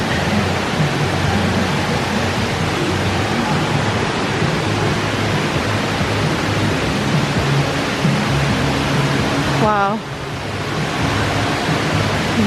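Indoor waterfall inside the Gaylord Opryland Resort hotel in Nashville, a loud continuous roaring rush filling the space, with a brief voiced exclamation near the end.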